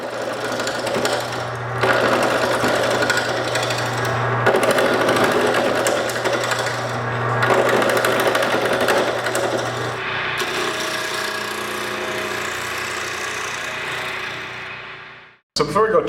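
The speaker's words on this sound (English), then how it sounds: "we can take it over the lathe and start turning" Wood spinning on a lathe while being turned into an ice cream scoop handle, a steady low hum with scraping tool noise running continuously, loud and close, before cutting off near the end.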